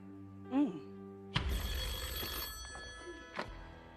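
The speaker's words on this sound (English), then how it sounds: "This phone call, Jennifer, is going to change your life" A telephone rings on a television game show, a short ring that fades into a loud burst of studio crowd noise and cheering.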